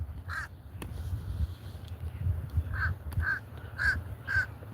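A loud crow caws repeatedly outdoors, with about five harsh calls spread irregularly over a low background rumble.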